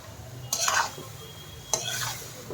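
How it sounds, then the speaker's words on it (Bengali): Vegetables with peas-lentil nuggets being stirred into the tempering in a pan over a raised gas flame, two distinct scraping stirs over a low sizzle, close by, with no speech. "ফোড়নের সাথে তরকারিটা মিশিয়ে নিচ্ছি গ্যাসের ফ্লেমটা একটু বাড়িয়ে নিলাম"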